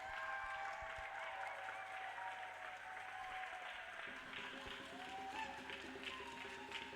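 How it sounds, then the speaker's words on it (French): A church congregation applauds for the Lord, a continuous crowd of clapping heard at a distance and fairly faint, with voices and some tonal sound mixed in beneath it. "Applaudissons très fort pour le Seigneur."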